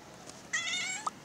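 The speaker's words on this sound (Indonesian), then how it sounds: "Apa ada kucing?" A hungry cat gives a single clear, close meow, drawn out for about half a second and followed by a short chirp, against a quiet room.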